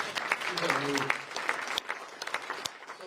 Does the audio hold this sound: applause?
yes